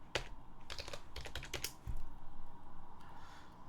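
Someone types a command on a computer keyboard, quick irregular clusters of crisp key clicks close to the microphone, pausing briefly between bursts, with no talking.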